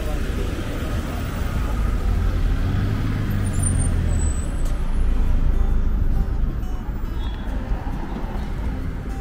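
Heavy street traffic in central Tashkent rumbles on steadily with car and engine noise close by and a brief air-brake hiss, while a person talks over it.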